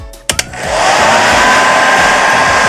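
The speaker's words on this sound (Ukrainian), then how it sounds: "Тепер максимальна температура фена." A hair dryer switched to its maximum temperature setting: a couple of sharp clicks, then a loud, steady blowing whoosh with an airy motor whine that stays close and constant.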